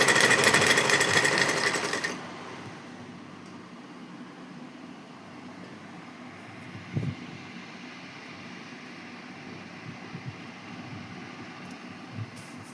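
Sewing machine stitching fabric in a loud, fast whirring burst for about two seconds, then stopping, leaving quiet room tone with a few soft knocks and handling sounds.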